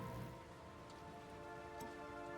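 Steady rain falls in the video game Tron: Identity, an even, quiet patter that runs the whole time with no voices over it.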